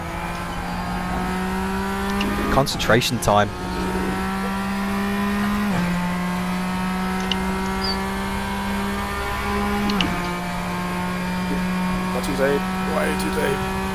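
Porsche 911 RSR GTE racing at Road America in the sim game RaceRoom, a steady high engine drone with gear shifts and a brief burst of revving and tire noise, while someone speaks briefly.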